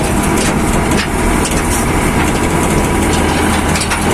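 A tractor engine runs loud and close while touring through a vineyard, a constant rough rumble with steady mechanical clatter and no pauses.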